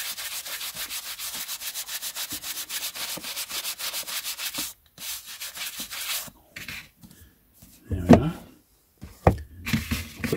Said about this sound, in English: Usually it's the top edges that need the most brushing.